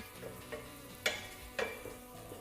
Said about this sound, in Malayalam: കറിവേപ്പില ചേർത്ത് നന്നായിട്ട് ഇളക്കുക.